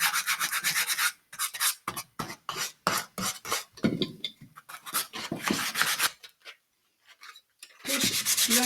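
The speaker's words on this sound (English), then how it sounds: "So basically, you just give it a sand wherever you want" Hand sanding of a wooden picture frame, close rhythmic back-and-forth rasping strokes with a short pause before resuming.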